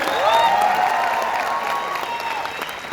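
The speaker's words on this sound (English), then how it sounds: "Can you have a round of applause?" Audience applauding at a college tech fest, a dense crowd clapping with some cheering and raised voices over it, brief and fairly close.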